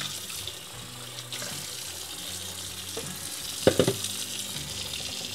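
Tap water runs steadily over a part of a Hurom juicer being rinsed in a sink, a constant hiss and splash with a few clattering knocks of the part near the end.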